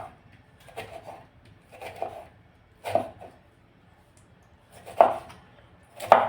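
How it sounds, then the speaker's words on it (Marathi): A knife chops a tomato finely on a cutting board in a home kitchen, sparse sharp taps landing every second or so, clear and close with quiet pauses between. "एक असा टोमॅटो घेतला आहे। बारीक बारीक चिरून घ्यायचा आपल्याला।"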